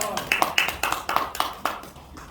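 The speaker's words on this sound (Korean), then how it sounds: "박수를 드리겠습니다" A church congregation at a thanksgiving worship service for UN War Participation Day at Seoul Theological University claps in a rhythmic run of about eight sharp claps, moderately close, blended with a voice.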